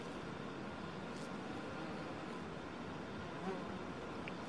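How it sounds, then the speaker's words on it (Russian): Flies buzz in a summer country garden with flowers, a faint, even hum that carries on steadily and unbroken at low level, with no voices. "Какие-то мухи у нас появились интересные."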